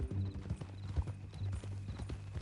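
Horse hooves in Red Dead Redemption II clip-clopping at a steady walking rhythm, close and clear, with a brief whinny-like tone near the start.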